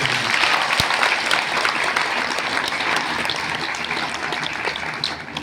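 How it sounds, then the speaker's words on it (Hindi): Loud, sustained applause from an audience at a Hindi satsang program in Faizpur, Baghpat, Uttar Pradesh, a dense continuous roar of clapping with a few sharper individual claps standing out. "जोरदार ताली बजाई जाए।"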